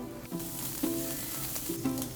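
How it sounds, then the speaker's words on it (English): Meat sizzles on a tabletop grill in a Korean restaurant in Atlanta, a steady close crackling hiss with faint tonal clinks and no voices over it. "처음에 이렇게 올리고 이게 핏물이 올라올 때 한번 뒤집어주는 게 좋습니다"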